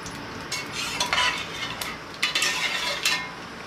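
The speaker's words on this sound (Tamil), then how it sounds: "எண்ணெய் காஞ்ச உடனே சோம்பு, கடுகு நல்லா போட்டு தாளிச்சுக்கோங்க." Mustard and fennel seeds temper in hot oil, giving a crackling sizzle broken by several sharp, bright bursts of popping and spoon scraping against the pan, close up and without voices.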